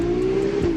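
Ferrari 296 with its stock exhaust: a steady, sustained engine drone with a strong even tone, held at a constant pitch and level without revving up or down.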